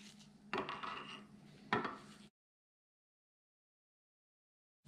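Connecting rod bolts on Manley rods for a 4.6 5.0 stroker engine being snugged up with a wrench: two short, close metallic scraping bursts, then silence.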